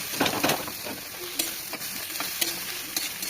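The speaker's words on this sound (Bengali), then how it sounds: "এটাকে নাড়ানাড়ি করবো" Green chilies fry in a pan and are stirred, giving a steady crackling sizzle broken by repeated spatula scrapes and knocks against the metal. The sound is close and fairly clear, with no talking.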